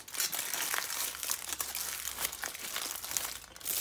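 Aluminium foil is crumpled up close, making a loud, continuous crackling and crinkling that fills the whole stretch without any speech.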